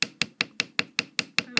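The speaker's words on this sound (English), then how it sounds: "the wire is getting a lot harder when I hit it with a hammer" A hammer strikes jewelry wire on a steel bench block in a quick, even rhythm, nine sharp ringing taps about a fifth of a second apart.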